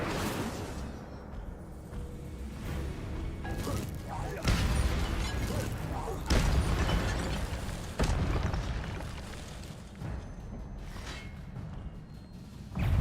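Fire spells and combat effects in Hogwarts Legacy burst and boom repeatedly over a dense roar of game noise, with several sharp loud hits spaced across the stretch and a voice briefly speaking.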